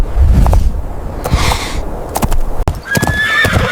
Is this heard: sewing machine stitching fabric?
no